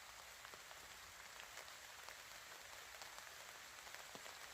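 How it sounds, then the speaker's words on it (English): Rain falls on a tent during a woodland wild camp, a faint, dense patter of drops tapping overhead steadily throughout, with no voices. "The rain's getting heavier."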